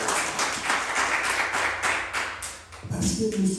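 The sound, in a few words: congregation applauding and cheering in church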